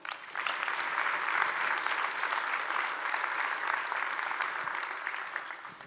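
A conference audience at React Conf applauds in a steady, sustained wash of clapping, moderately distant and even, with no talk over it.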